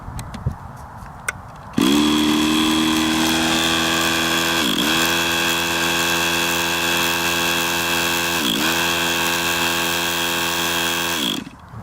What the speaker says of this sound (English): all we're doing is just getting fuel into the engine before we start the motor